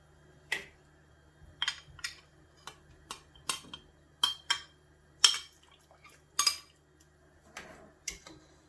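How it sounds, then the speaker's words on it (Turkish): Mantı dumplings dropped one by one into a pot of boiling water for yüksük soup, giving a series of short, separate splashy plops with quiet gaps between them and no talking. "Şimdi içerisine mantılarımı atıyorum"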